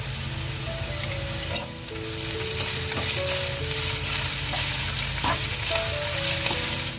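Crushed ginger, garlic and green chilli paste fries in a pan with a steady, close sizzle, broken by a few soft stirring scrapes, while faint tonal background music plays underneath.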